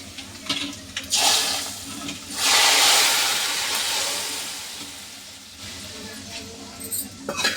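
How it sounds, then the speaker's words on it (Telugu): Hot tempering poured into a pot of radish and onion sambar sets off a loud hissing sizzle that swells, holds for a few seconds, then slowly fades, with softer clatter before and after. "వేగిన తర్వాత ఇలా చారులో వేసి వేసేద్దామండి తాలింపు"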